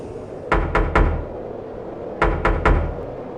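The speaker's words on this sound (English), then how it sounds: "The knocking continued." Knocking on a truck's metal cargo door in two sets of three sharp, evenly spaced knocks separated by a pause, each loud and close with a hollow thud.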